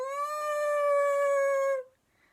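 A voice imitates a stranded whale's sad call, one long mournful tonal wail with rich harmonics held for nearly two seconds, then breaking off into quiet.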